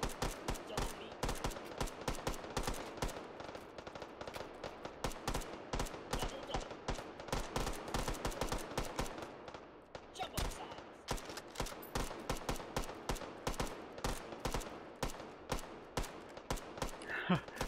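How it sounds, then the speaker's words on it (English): Old west guns fire in the VR shooting game Hot Dogs, Horseshoes & Hand Grenades, a long run of sharp, rapid shots in quick succession with a short pause midway, loud and close throughout. "Shooting."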